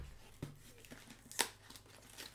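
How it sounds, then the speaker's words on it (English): Cardboard toy box for a Sentai gear set being ripped open by hand, giving a couple of quiet, close tearing and crinkling bursts, one sharper rip near the end. "Let's just rip the box because I'm not going to use the cardboard box."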